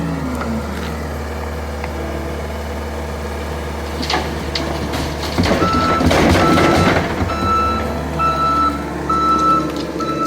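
Dump truck backs up on a basement fill job at a 100-year-old house, its backup alarm sounding steady repeated beeps over the rumble of the diesel engine, with a louder grinding burst midway.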